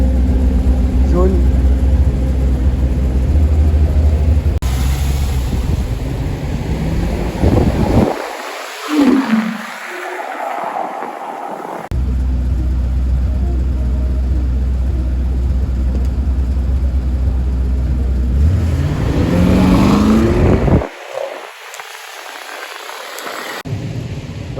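A yellow Lamborghini Urus roars past twice outside the Peninsula hotel in Paris, its engine noise swelling loud and close each time before cutting away, amid steady street and traffic rumble.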